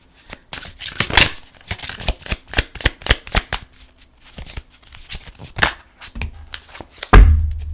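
Moon oracle cards shuffled and drawn in a run of quick, crisp riffling flicks and slaps, close and fairly loud, ending in a soft thump as a card is set down.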